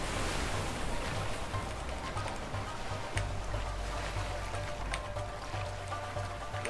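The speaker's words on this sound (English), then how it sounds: "Waterfall!" Rushing water and a waterfall roar from a boat ride in the video game A Way Out, a dense continuous churning wash at moderate loudness, steady throughout with no talking.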